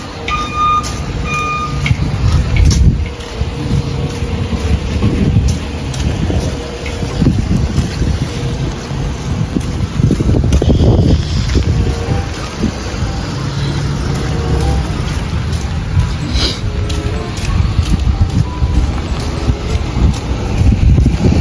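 Strong wind buffeting the microphone with rain in Smoky Lake, Alberta, Canada, a loud continuous rushing roar with gusty surges, along with a faint passing vehicle and a few beeps early on.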